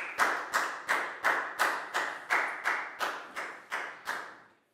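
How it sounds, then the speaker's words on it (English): A primary school classroom claps for a student in unison, about ten evenly spaced, sharp group claps in a steady rhythm, each ringing briefly before the next, with no talking. "a big round of applause for Nadia, please, guys"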